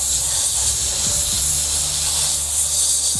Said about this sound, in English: I'm just gonna go lightly, and then I might do some uneven sort of spray in there